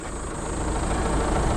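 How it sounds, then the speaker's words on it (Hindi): A Tata Harrier's roughly 2-litre diesel engine runs steadily as a dense, continuous drone from inside the SUV while it drives, with no talk over it. "listen to the engine voice"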